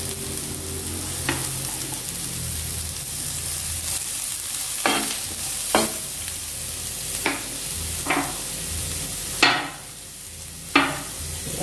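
Vegetables lightly sautéed with black pepper and green onion in a pan for sweet corn soup: a constant close sizzle with about eight spaced scrapes of a spoon stirring, one louder clatter near the end, no voices.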